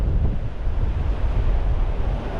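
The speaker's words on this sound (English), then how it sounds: "Look at how windy it is." Strong wind buffets a microphone outdoors during a metal detecting outing, a loud, continuous low rumble with gusty fluctuations and no voices.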